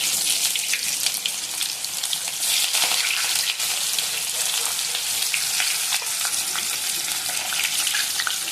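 Mustard seeds, cumin, dried red chillies and onion frying in hot oil for a cowpea dal, a loud, steady, dense sizzle that runs unbroken throughout.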